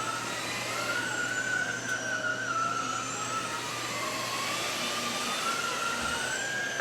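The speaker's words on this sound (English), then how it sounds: "Once it went up to carpet, hear that? That motor's kicking in because it knows it's on carpet," A Smoture cordless vacuum's motor whines steadily on carpet, a high sustained tone that wavers and rises slightly as the motor works harder, close and without speech.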